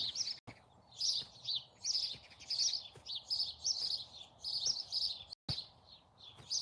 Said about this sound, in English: I like it with all the birds here. There's birds coming in now.